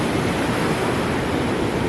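Sea waves wash over a rocky shoreline in a steady, loud roar of surf that fills the whole moment without pause, with no voices heard.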